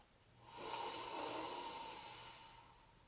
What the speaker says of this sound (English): So we're going to breathe down and out.